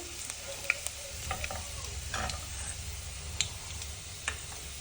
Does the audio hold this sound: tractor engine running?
no